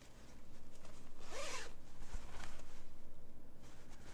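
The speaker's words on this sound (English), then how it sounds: "a project bag, a zipper" A zipper on a fabric project bag is pulled once, a quick close rasp lasting under a second, set against a quiet room with faint background noise.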